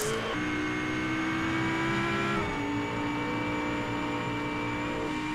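A Ford Mustang race car engine in the racing video game Grid drones steadily at high revs with shifting gear tones, loud and continuous throughout, with no talk.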